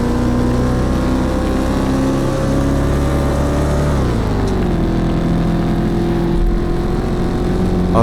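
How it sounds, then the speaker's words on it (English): Big wheel vehicle fitted with a V8 engine accelerating in the video game Untitled Trip, a steady droning engine tone that rises in pitch, dips around the midpoint, then holds on evenly without speech. "The big wheel accelerates more smoothly with the V8, but it's still a bit slow."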